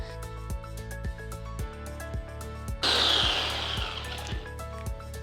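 An electric grinder whirs into a loud, harsh roar as ginger and spices are ground into paste, starting abruptly after a few seconds of rhythmic ticking and low hum and running steadily to the end.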